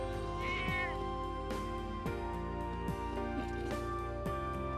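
A cat meows several times in the Trails of Cold Steel video game, each cry short and rising, set against steady background game music.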